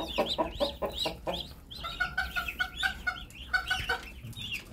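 Muscovy ducklings peep in a pen while being fed, many shrill rising chirps overlapping in quick, steady clusters close by.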